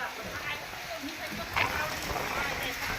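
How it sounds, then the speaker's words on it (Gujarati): Steady rain hiss with a brief louder burst partway through, continuous and fairly close, with a voice murmuring faintly in the background. "વરસાદ પડી રહ્યો છે"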